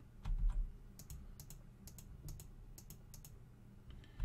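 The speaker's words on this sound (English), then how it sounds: "You also notice that my mouse is a lot louder." Quiet, sharp clicks in quick pairs and small bursts, like a computer mouse being clicked repeatedly over a soft background hum.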